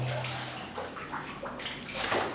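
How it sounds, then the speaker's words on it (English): Rainwater pours and splashes into a hurricane-damaged building with its roof torn off, where burst pipes may also be leaking; a soft, continuous trickle with scattered drips and gurgles, fairly faint and steady. "we have a lot of water from the rain leaking in, and probably some pipes that are burst"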